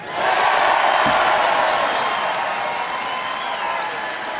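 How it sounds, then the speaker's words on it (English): A large crowd at a Trump campaign rally in Waukesha cheers and applauds, a loud, dense roar of clapping and shouts that stays steady throughout. "You applaud if you like it."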